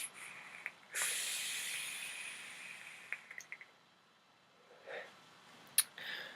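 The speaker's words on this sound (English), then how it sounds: "I'm just gonna have a toot here quick." A puff drawn through an Infinite clone vape with wide-open airflow gives a long, soft airy hiss lasting a couple of seconds, followed by faint small clicks and a quieter breathy exhale, heard close up.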